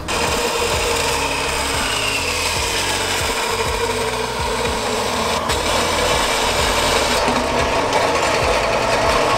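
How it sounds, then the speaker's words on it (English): A bandsaw cuts intercooler piping for a turbo BMW E46 drift car, producing a loud, continuous, steady grinding rasp with no talking. "I got my bandsaw here, which you don't necessarily need to make your intercooler piping, but it makes it easier for me, so let's get to cutting"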